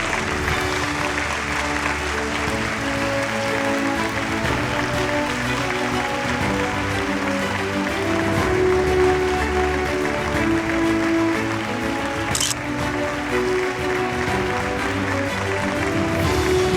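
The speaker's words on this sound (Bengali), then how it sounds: "একবার জোরে হাততালি হয়ে যাক ডক্টর রয়ের জন্য" An audience applauds an award winner from a Kolkata hospital at a TV9 Bangla health awards event, a loud, steady wash of clapping that holds for the whole stretch.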